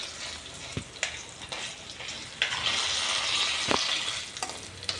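Garlic and dried red chillies frying in hot oil, a steady close sizzle broken by several sharp clinks and scrapes of stirring.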